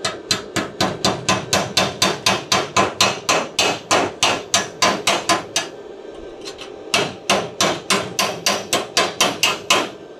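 Rapid, sharp metallic hammer blows chip slag off a weld made with a Mecpow MIG 120 welder, ringing out in a steady rhythm, pausing briefly, then resuming, close and loud with no talking.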